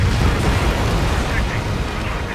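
A missile explosion downs an enemy bomber in Ace Combat 7, heard as a loud, sustained roaring blast that rumbles on steadily without a break.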